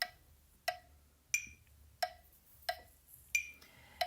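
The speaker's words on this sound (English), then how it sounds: "I grab my metronome" A metronome clicks steadily about every two-thirds of a second, each tick crisp and glassy. The six ticks are quiet and isolated, with near silence between them.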